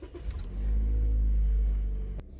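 A car engine cranks and starts up during a scan tool test, settling into a loud, steady low rumble that holds for over a second and then cuts off abruptly, close by.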